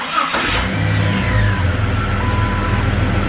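A Jeep XJ engine with a newly fitted fuel pump and starter cranks, catches and settles into a loud, steady close-up idle with a low rumble, with no talking.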